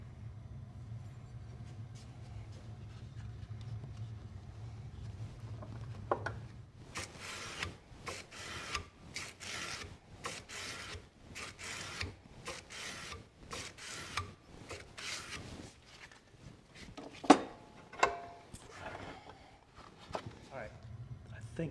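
A rusted, deeply pitted Bowie knife blade is worked with medium-grit emery cloth, giving repeated rasping strokes in uneven bursts with short pauses; someone talks quietly at the start.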